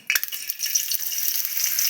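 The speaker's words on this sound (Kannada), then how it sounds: "ಕಟ್ ಮಾಡಿದಂಥ ಉಳ್ಳಾಗಡ್ಡಿ ಟೊಮೆಟೊನ ಫ್ರೈ ಮಾಡಿ" Chopped onion and tomato sizzle and crackle as they fry in about two spoonfuls of oil, with a loud, continuous hiss and occasional stirring clatter close by.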